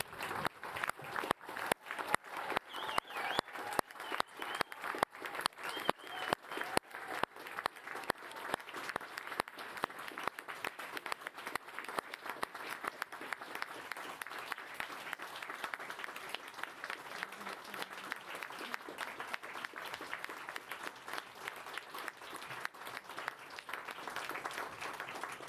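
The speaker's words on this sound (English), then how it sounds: "another loud round of applause for our diplomats" A standing hall audience at a surgical diplomates' graduation ceremony applauds the new diplomats, a long, steady wash of many hands clapping that starts with sharp, distinct claps and thickens into continuous applause for about twenty-five seconds.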